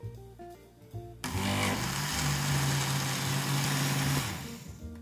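An electric mixer beats coconut and rum cake batter, starting suddenly after a moment of quieter sounds and holding a steady whirring drone for a few seconds before easing off; no voices.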